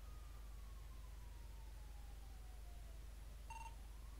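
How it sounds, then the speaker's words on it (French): A faint police siren from a GTA roleplay video game drifts in a slow downward sweep, heard distantly and alone, followed by a short electronic beep near the end. "les gars, il y a les sirènes."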